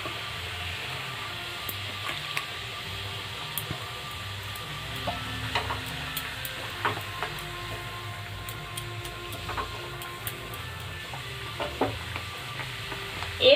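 Fresh garden spinach dropped into a pot of boiling water with baking soda, giving a steady low bubbling and faint sizzle with scattered small ticks and clinks throughout, fairly quiet with no voices.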